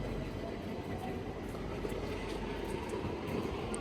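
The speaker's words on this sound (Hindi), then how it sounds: "अंडरग्राउंड जो ट्रेन स्टेशन है" A steady, continuous low rumble of a train fills an underground train station in the UK, with a constant roar and no clear voices.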